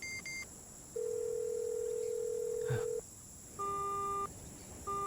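A telephone call tone after the call is cut, with a steady tone held for about two seconds, then short repeated beeps that form a pattern, heard faintly over quiet background hiss.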